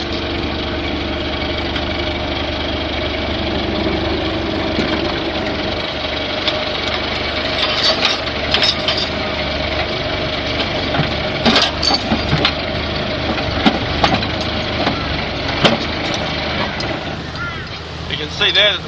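A Bobcat's engine idles with a steady mid-pitched rumble while a chained pipe knocks against the front of the machine, giving scattered metallic clanks over the drone, with someone talking throughout.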